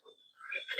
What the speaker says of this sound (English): what you just heard was a pig fart